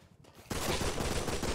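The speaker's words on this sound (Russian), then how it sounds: "кто-то с болта там палит по мне" Gunfire in the survival video game Rust, erupting suddenly after quiet into a dense, continuous burst of rapid shots with no talk.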